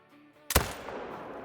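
A single sharp rifle shot in the hunting video game Call of the Wild, long-range at around 400 yards, cracking loudly out of near silence and trailing into a sustained rolling echo.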